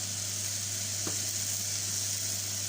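Okra sizzling in a hot pan while an okra curry is cooked, a steady, fairly loud hiss with a brief stirring scrape partway through and a low hum underneath.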